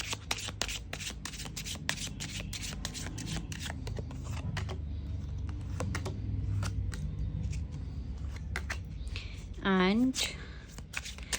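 Tarot cards shuffle in quick, crisp riffles close by with a steady rustle, while a person talks and a short high squeak rises near the end.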